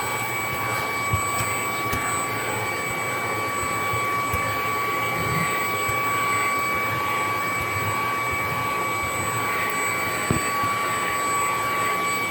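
A Shark Ion P50 cordless vacuum cleaner runs on carpet with a constant loud motor whine and steady high tones, with only small bumps from the head moving across the pile.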